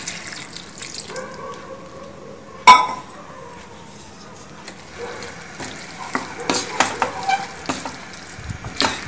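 Foxtail millet idli batter stirred by hand after a splash of water, with a sharp knock near the start and then a run of wet, scraping strokes growing louder and more rhythmic toward the end.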